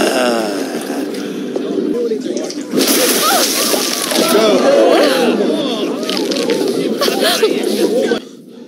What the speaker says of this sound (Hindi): तो मुझे पानी के अंदर डुबकी लगा दी।